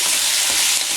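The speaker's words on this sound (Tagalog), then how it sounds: "Haluin natin mabuti hanggang medyo maluto yung" Pancit bihon rice noodles with soy and oyster sauce are stirred in a frying pan, giving a loud, close, continuous hissing sizzle with the brief rustle of tossing.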